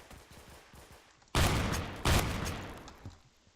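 A Remington shotgun loaded with bird shot fires two loud blasts in quick succession in the video game Phantom Forces, each boom trailing off into a fading echo over quieter game ambience.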